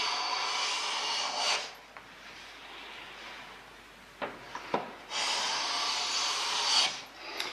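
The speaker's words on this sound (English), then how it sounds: "when I'm planing up a board now, I'm actually hollowing the length and the width in one hit" A hand plane shaves a wooden board in long strokes, flattening and hollowing the face, giving two sustained rasping passes separated by a quieter stretch with a few short scrapes, close and fairly loud with no talking.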